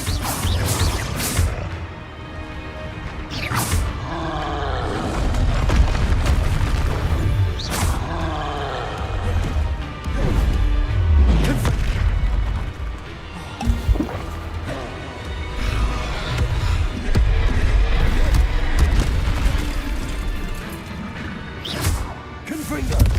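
Confringo fire spells burst repeatedly during a Hogwarts Legacy duel, giving loud crashing blasts and whooshes in quick succession under a player's voice calling out spells.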